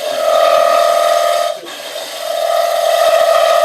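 A chisel cuts wood on a lathe while a bud vase is turned, giving a steady, loud rasping whine that dips briefly in the middle before resuming, close and continuous, with no voices.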